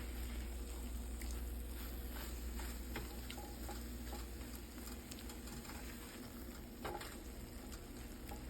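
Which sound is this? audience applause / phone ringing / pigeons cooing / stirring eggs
stirring eggs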